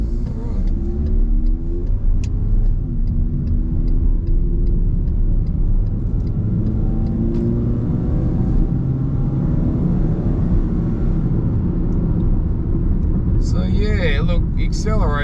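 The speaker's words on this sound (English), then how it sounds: "just going to go for a drive in the MG3" A 2020 MG3 with a 1.5 litre naturally aspirated engine drives along, heard from inside the cabin as a steady, loud low rumble of engine and road noise, with a few clicks near the end.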